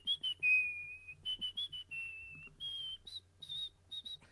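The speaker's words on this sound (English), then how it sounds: "That is a song that Porky is whistling at the very beginning of the cartoon." Porky Pig whistling a song in the 1936 Looney Tunes cartoon Fish Tales: a bright, clear melody of short phrases and a few held notes, with no talking.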